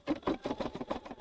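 An embroidery machine stitches centering crosshairs onto a rag quilt square in a long basting stitch, a rapid, even mechanical chatter of needle strokes heard close and alone.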